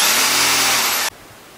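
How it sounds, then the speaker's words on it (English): A mouse sander runs loud and close against a skirting board, a harsh high whirring buzz that stops abruptly about a second in, leaving a quiet room. "I'll just have to do the bottom with the mouse sander"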